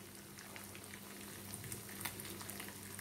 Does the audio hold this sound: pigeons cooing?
no